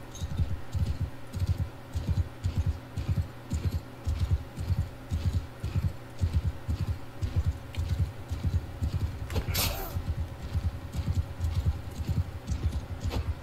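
Horse hooves clip-clopping in the video game Bannerlord, a steady rhythmic run of close, even hoofbeats throughout, with a brief metallic clink partway through and no talk.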